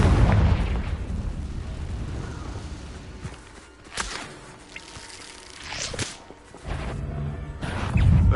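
Fiery Confringo spell blasts in Hogwarts Legacy, a few loud bursting booms with sharp cracks amid dense game noise, near and forceful.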